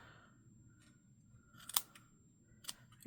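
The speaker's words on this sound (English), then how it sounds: "You just trim your little loops." Scissors snip the yarn loops of a pompom in two sharp, close cuts against a quiet background, with a faint rustle of yarn between them.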